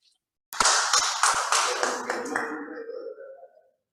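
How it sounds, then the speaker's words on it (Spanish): Applause from a small audience during an introductory oratory class, a short burst of hand claps that starts abruptly, stays fairly close and loud, then thins out and fades within about three seconds. "Un fuerte aplauso para el compañero."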